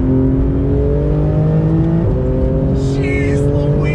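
A Porsche 911 GT2 RS accelerating on throttle, its engine note rising steadily as a loud, sustained, climbing drone heard from inside the car, with a brief shift partway through.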